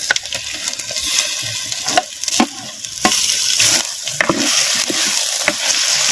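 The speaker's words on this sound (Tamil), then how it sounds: "சேர்த்த மட்டனை அப்படியே நல்லா வெங்காயம் இஞ்சி பூண்டு விழுதுகளோட அப்படியே நல்லா கிண்டு நல்லா கிண்டி விட்டு எண்ணெயில் சேர்த்த மட்டன் நல்லா வதங்கட்டும்" Mutton sautéing in oil with onion and ginger-garlic paste, giving a loud, continuous sizzle close up with repeated scraping and clinks as it is stirred around the pan, and no voices over it.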